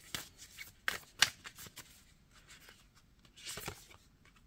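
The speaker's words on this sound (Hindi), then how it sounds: "अब मैं लास्ट 2 कार्ड्स निकालूंगी।" Tarot cards are shuffled and drawn, with soft papery riffles and slides and a few crisp flicks as cards come off the deck. The sound is quiet and close, with no talking.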